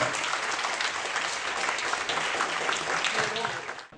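Applause for a Dynamo Kyiv football player, a sustained wash of clapping from a crowd that holds steady and then fades out at the end, with a voice talking faintly underneath.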